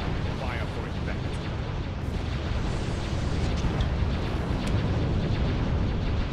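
Starship fire sets off a large explosion in the space strategy game Star Wars: Ascendancy, heard as a continuous, dense roar of rumbling blasts and crackling bursts, with faint voices underneath.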